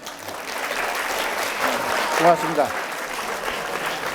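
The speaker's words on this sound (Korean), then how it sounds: "여러분 박수를 아주 잘 치셨어요." An audience at a Korean lecture on space science claps loudly, a steady wash of applause, while someone speaks briefly over it.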